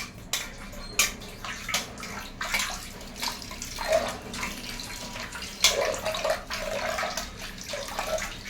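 Splashing, gurgling water runs in uneven bursts close by, with a few louder sloshes as it is poured while preparing starch for cotton clothes.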